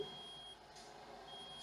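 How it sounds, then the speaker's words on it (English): A steady electronic buzzer tone beeps at a constant pitch through most of the moment, moderately loud over a low background hum, with no talking. "Sorry for the buzzer."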